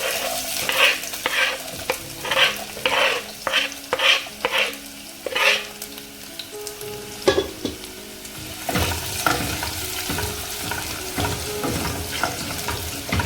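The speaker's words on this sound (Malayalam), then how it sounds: "ഇനി ഇഞ്ചി വെളുത്തുള്ളി ഇട്ട് കൊടുക്കാം" Chopped ginger and garlic go into hot oil with popped mustard seeds for dried mango pickle, and they are stirred with sharp rhythmic scrapes at first. A steady, close sizzle of frying follows.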